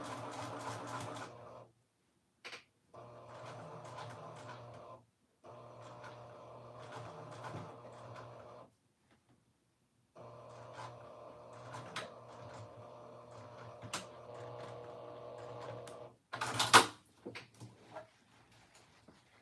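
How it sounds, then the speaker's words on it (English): Sewing machine set to a 4-stitch length stitching down a dress pocket, running in several bursts separated by short pauses, with a few clicks and handling noises near the end. "we're going to sew this pocket down"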